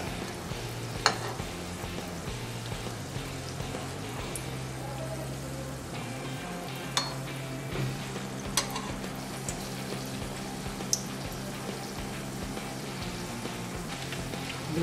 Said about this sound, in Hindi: दूसरे साइड से भी ऐसा ही कलर आने तक हम इसे फ्राई करेंगे।